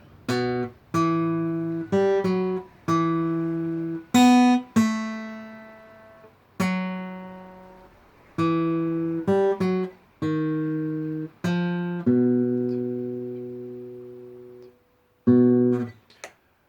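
A guitar plays the opening of a piece, a slow melody of single ringing plucked notes, some quick and some held, with brief pauses between phrases.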